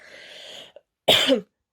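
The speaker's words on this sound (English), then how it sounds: "I'm gonna cough." A single sharp cough bursts out after a brief stretch of quiet murmuring, loud and close, then silence.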